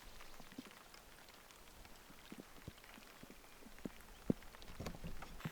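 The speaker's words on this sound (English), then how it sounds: "it's starting to rain" Light rain patters on surfaces in a remote wilderness, scattered individual drops ticking close by over a soft, steady hiss, with no voices.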